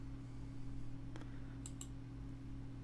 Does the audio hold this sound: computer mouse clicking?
yes